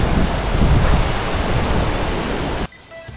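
The Nalh river rushes along the Hampta Pass trail, a loud, steady wash of flowing water close by that fills the scene, then cuts off abruptly near the end.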